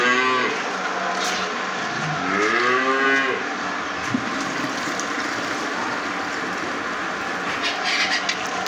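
A cow on a dairy farm moos clearly, with a long low call near the start followed by quieter farm background noise and no talking.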